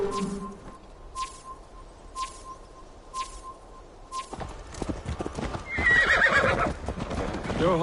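In the Assassin's Creed Valhalla video game, a horse's hooves clop in a slow, regular rhythm, then the horse lets out a loud, close whinny amid busier background sound.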